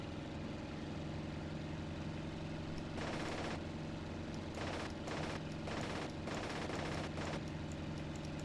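Machine gun bursts from an A6M5 fighter in IL-2 Sturmovik, several short rattling volleys fired over the steady drone of the aircraft engine, starting a few seconds in and repeating in quick succession.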